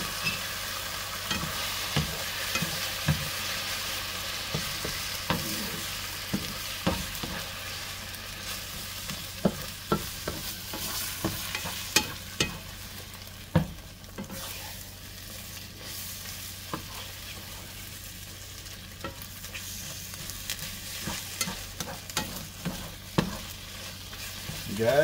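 Eggs fry and get stirred with wild poke salat greens, a low, steady sizzle under frequent scraping and tapping of a utensil against the pan.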